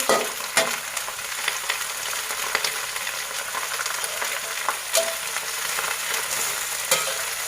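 Cabbage frying in hot oil for a fish-sauce cabbage dish gives a steady, close, crackling sizzle with scattered sharp pops and stirring clatters, and no one speaks.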